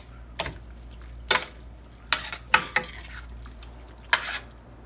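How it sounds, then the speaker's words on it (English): Cooked, cooled rice being stirred into a stuffed pepper filling in a home kitchen, heard as several sharp scraping and clacking strokes of a spoon against the bowl at an irregular pace, close by, with no talking. "Okay, we mixed our rice in."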